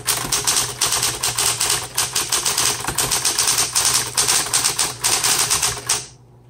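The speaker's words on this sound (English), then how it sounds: "So even if you type fast, make sure you're lifting your fingers completely off the keys" Fast, steady typing on a 1960s Smith Corona Coronet Electric 12 electric typewriter, a loud, close run of rapid key strikes with rhythmic clacking bursts for about six seconds before stopping abruptly.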